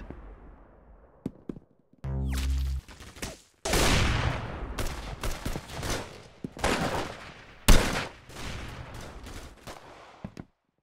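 Video game gunfire crackles in quick volleys and single sharp shots, with one sustained burst early on and several loud close reports scattered through the rest.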